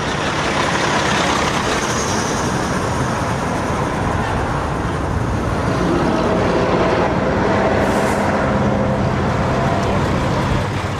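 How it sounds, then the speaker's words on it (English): A 1959 AEC Regent V double-decker bus with Park Royal flat-front, front-entrance bodywork on a traditional half-cab chassis, its engine giving a steady loud rumble that runs throughout amid outdoor rally noise. "PFN 858 is a 1959 AEC Regent 5 with Park Royal bodywork, unusual in having both a flat front and a front entrance"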